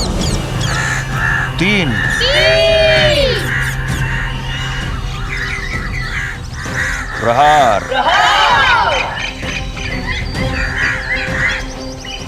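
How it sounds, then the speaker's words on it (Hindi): A flock of crows caws loudly in repeated bursts over a steady low hum, and a voice counts briefly among the calls. "ये अचानक से सारे पक्षी क्रंथन करते हुए अयोध्या की ओर क्यों जा रहे हैं?"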